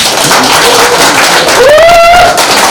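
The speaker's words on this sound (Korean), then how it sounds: "서로 간에 같이 한번 박수 한번 치겠습니다" An audience claps together at a plaque-unveiling ceremony of a Korean singers' association branch in Hamyang, a loud, dense burst of applause with a sustained tone rising midway through.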